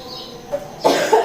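One short, rough cough bursts out close to the mic, following a brief throat sound, with no talk over it.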